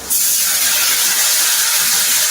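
A little water hits hot masala of crushed chilli and garlic in oil, setting off a sudden loud burst of steamy sizzling that holds strong and steady for over two seconds.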